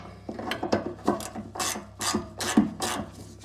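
A spanner ratchets as bolts are tightened on the fuel tank bracket of a barn-find Austin Maestro car: a close, rhythmic run of rasping ratchet clicks in repeated strokes, with no voice.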